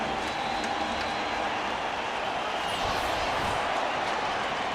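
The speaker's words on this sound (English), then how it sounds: "So much for the Giants taking the crowd noise out of it." Stadium crowd cheering after a New Orleans Saints touchdown against the New York Giants in 2009, a short burst of broad, noisy roaring and clapping heard from a distance, steady with a slight swell near the end.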